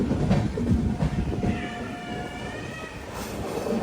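Express train arriving at Vanchi Maniyachi junction, heard as a rolling rumble with clatter, then a thin wheel squeal rising mid-clip as it slows toward the platform.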